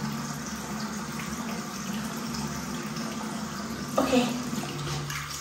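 Tap water runs steadily into a bathroom sink as a face is rinsed during a nighttime skin care routine, with a brief splashy surge near the end and someone speaking briefly.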